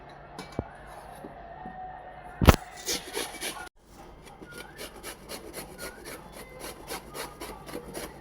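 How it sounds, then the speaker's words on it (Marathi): Pumpkin being grated by hand on a metal grater, a steady series of close, dry rasping strokes after a couple of sharp knocks, continuing rhythmically with no talk. "तर आता हे छान असं किसून घेऊयात"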